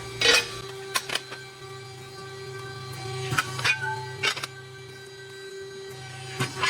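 An 80-ton, 1.6 m CNC press brake bends a metal part, giving a few sharp clanks and thuds over a steady machine hum, with a short pause between strokes before more clunks near the end.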